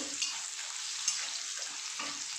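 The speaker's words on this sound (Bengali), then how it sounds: "পেঁয়াজ আর রসুনটা একটু ভাজা ভাজা হয়ে যায়" Onion and garlic fry in a pan with a bright, continuous sizzle and crackle, steady and close, with a faint clink or two and no talking.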